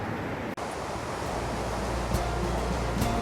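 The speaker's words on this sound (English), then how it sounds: "across the way there's a wee little waterfall going on. Yeah, it's pretty intense rapids down there." Steady broadband rushing of river rapids with a small waterfall across the way on the Copland Track, a continuous, fairly loud water roar with no voices.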